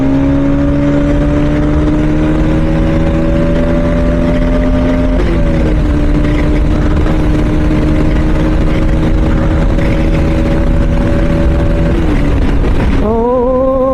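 A Yamaha R15M motorcycle engine drones loudly on an empty night road, holding a steady pitch, dipping briefly at a shift, then climbing sharply as it accelerates near the end.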